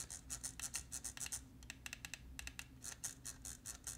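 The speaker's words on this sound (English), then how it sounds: "Scroll wheel." Scroll wheel of a Pwnage StormBreaker gaming mouse rolled close up, giving quiet, rapid clicking ticks in quick runs with brief gaps between them.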